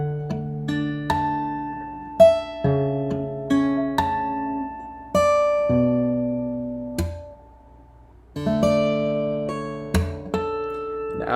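Tapped electric guitar passage mixing ghost notes, pull-offs and ringing harmonics, played solo as clean, plucked notes in short bursts with brief gaps between phrases.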